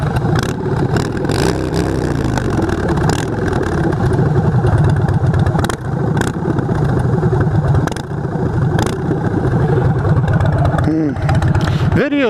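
Loud, close lumpy idle of a 2015 Harley-Davidson Breakout twin cam V-twin, a steady pulsing rumble with a few small throttle blips, while someone talks over it.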